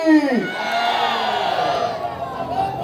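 A rally crowd at a Ganesh festival poet gathering in a temple yard in Merta City shouts a patriotic slogan in unison, opening with a sharp voiced cry that gives way to a sustained loud collective roar.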